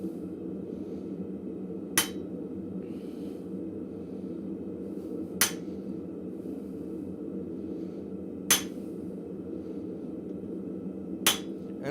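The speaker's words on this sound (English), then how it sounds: "every hammer hit, I am lifting up my chisel, checking to make sure I am on my mark" Blacksmith's hammer striking a chisel during layout work at a forge on cooler metal, four sharp isolated metallic hits spaced about three seconds apart over a steady low shop hum, with no speech.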